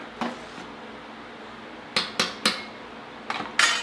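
A homebrew beer wort with Perle hops boiling in a pot, with a metal spoon stirring and clanking against the sides: a few sharp, close metallic knocks in two clusters over a quiet background.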